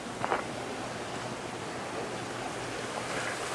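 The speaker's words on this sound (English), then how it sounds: "Waterfall is raging." Garden pond waterfall running strong after the pond is refilled and the pump turned up high, a steady broadband rush of falling water, close and fairly loud, no talk.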